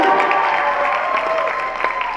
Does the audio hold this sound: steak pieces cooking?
no